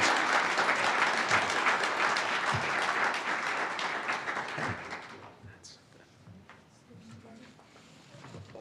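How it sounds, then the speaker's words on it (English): Applause from the audience at a university scholarship award ceremony, strong and dense at first, then thinning out over the last few seconds into scattered claps and faint murmurs. "let's just keep clapping for people because it makes everything better"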